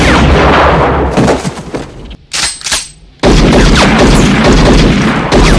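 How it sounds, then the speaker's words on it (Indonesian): Loud, dense gunfire crackles and booms, breaks off briefly into a few sharper isolated shots, then erupts again into sustained heavy firing. "dari kejauhan Mandy melepaskan tembakan"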